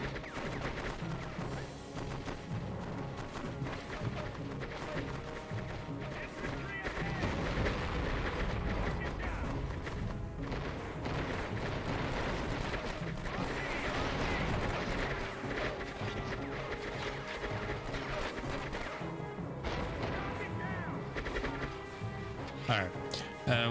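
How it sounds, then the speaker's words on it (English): Gunfire and artillery from the video game Conflict: Desert Storm, repeated shots and heavy booms in an ongoing battle, fairly quiet overall and mostly heard under someone talking. "I thought I heard people shooting."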